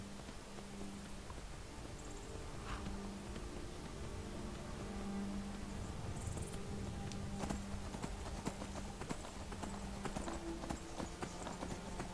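A horse's hooves clop steadily in the Skyrim video game, a quiet continuous run of hoofbeats over a soft ambient background, growing busier toward the end.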